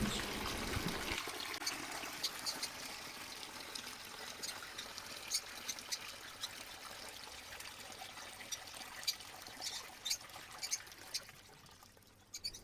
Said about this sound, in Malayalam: ഈ വാൽവ് തുറക്കുമ്പോൾ ഇതേപോലെ കറങ്ങി ആ കുഴിയിലേക്ക് വീണോളും നല്ല പ്രഷർ തന്നെയുണ്ട് വെള്ളത്തിന്